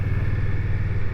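An Indian Scoot Bobber motorcycle engine rumbles low and steady at close range for a brief moment while riding, with no distinct gear-change break.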